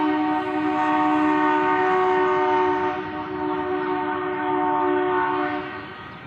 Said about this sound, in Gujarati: તો અમારે અત્યારે નીકળી છે 9 વાગ્યાની ટ્રેન.